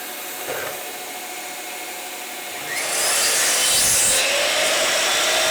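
A power saw cuts wood to size for a wood-turning station setup, starting with a quieter rough whir and then rising into a louder, sustained, close-up cutting whine for the last few seconds.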